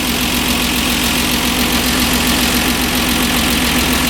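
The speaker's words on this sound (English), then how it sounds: "sometimes you have to give it a little throttle just to make sure that they're running at their proper idle" A 1968 MGC engine fitted with SU HS6 carburettors idles steadily and loudly, a continuous low mechanical hum with an even pulsing beat running throughout, no voices present.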